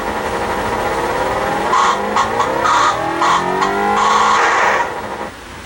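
Atari Sprint 2 arcade racing game cabinet produces a continuous buzzy electronic engine drone with warbling pitch sweeps and repeated synthesized tire-skid squeals layered on top, loud and steady throughout.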